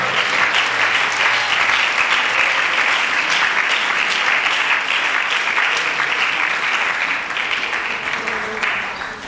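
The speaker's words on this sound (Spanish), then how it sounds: "aplauda su nombre" Loud, sustained applause from a church congregation during a Sunday school service, steady and dense throughout before easing slightly at the end.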